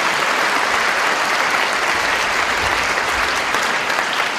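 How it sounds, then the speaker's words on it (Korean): A church congregation applauds during a Sunday service, steady dense clapping filling the room at full volume with no pauses and no voices rising above it. "우리 한번 박수 한번 해주시기 바랍니다."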